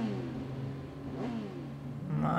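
A motorbike engine in the PS4 video game Sleeping Dogs hums at a steady mid pitch, its revs rising and falling in a smooth sweep, then surging higher toward the end, close and continuous with no talking.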